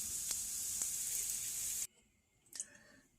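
Faux keto hash browns sizzle steadily in a hot pan, a loud continuous hiss with a couple of sharp pops, cutting off abruptly before a brief softer burst of sizzle returns near the end.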